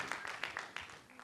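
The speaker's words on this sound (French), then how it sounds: "Ça s'applaudit." Audience applause at a Faso Academy quarter-final: a short burst of scattered, uneven claps, fairly close and steady, with some voice noise mixed in.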